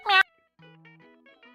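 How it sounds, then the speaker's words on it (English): A single loud, harmonic cat meow bursts out briefly, then gives way to quieter, steady electronic tones with no other voices. "Meow. Meow. Meow. Meow. Meow."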